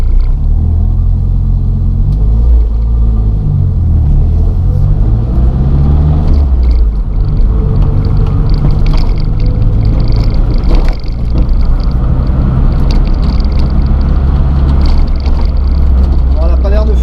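A Renault Super 5 GT Turbo engine runs steadily for the whole stretch, a loud low rumble with a gentle rise and fall as the car pulls away in second gear, with occasional talk over it.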